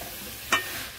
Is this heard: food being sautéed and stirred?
yes